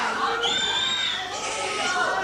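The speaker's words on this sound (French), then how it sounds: "Faut pas crier, sinon on n'entendra pas la traduction." A studio audience at a 1994 French television show in Paris shouts and screams for Madonna, a dense, steady roar of excited voices with high shrieks rising throughout, close and loud.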